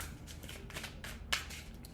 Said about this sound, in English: So let's shuffle.